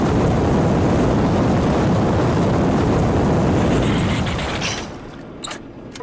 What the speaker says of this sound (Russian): вот тебя огнеметом пожарим